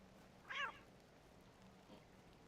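A cat meows once, brief and fairly close, in the video game The Excavation of Hob's Barrow, then a faint second sound follows over a quiet background.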